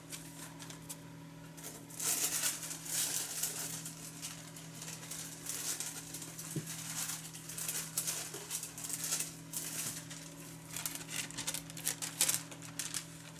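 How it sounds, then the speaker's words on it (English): Sheets of waxed paper crinkle and rustle near the microphone as it is handled while cleaning up a craft stencil workspace, giving continuous irregular crackling at moderate loudness over a steady low electrical hum. "that's me wallowing around in waxed paper"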